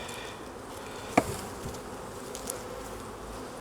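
Honey bees hum steadily at an opened hive during a brood-frame inspection, a dense moderate drone with one sharp knock from the hive frames partway through.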